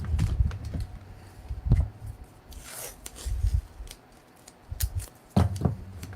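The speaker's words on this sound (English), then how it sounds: "For now, I'll just tape it." Tape being pulled and pressed onto an 80's Dragon Walker toy, close crinkly rips and rubbing bursts separated by quiet gaps, plus light plastic handling clicks.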